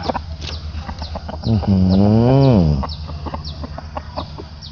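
Fighting cocks at a gamecock breeding farm, one rooster letting out a loud, drawn-out crow in the middle over a busy backdrop of clucks and calls from other birds nearby.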